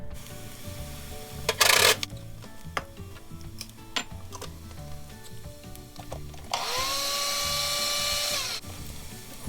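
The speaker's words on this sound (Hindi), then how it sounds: "सूखा धनिया, जायफल, जावित्री इसको ग्राइंड कर लेंगे" Dried coriander, nutmeg and mace are ground in an electric grinder, with two loud bursts of whirring: a short one early on and a longer, steadier run near the end, amid kitchen clatter and ticking.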